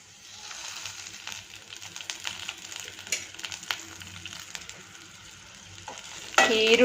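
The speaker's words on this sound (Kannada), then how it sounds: "ಒಂದು ಸ್ಪೂನ್ ಎಣ್ಣೆನ ಹಾಕ್ಕೊಂಡು ಇದಿಷ್ಟನ್ನು ಇವಾಗ ನಾನು ಹುರ್ಕೊಳ್ತಾ ಇದ್ದೀನಿ" Cumin fries in a spoonful of oil in a pan, a soft continuous sizzle broken by rapid clicking scrapes of a stirring spoon, then a sudden louder burst of sizzling at the very end.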